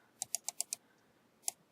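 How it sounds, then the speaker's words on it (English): Computer keyboard typing in lettering software: five quick, evenly spaced keystrokes close by, then a pause and one final tap, crisp and fairly quiet against a faint background. "I'm going to type a C"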